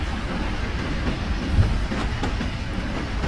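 A high-speed train runs along its track with a steady, broad rumbling roar, close and continuous for a few seconds with no voices.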